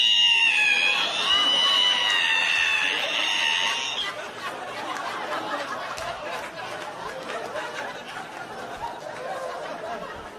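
A high, wavering squeal from a voice mimicking a creaky ironing board opening, followed by an audience laughing and chattering.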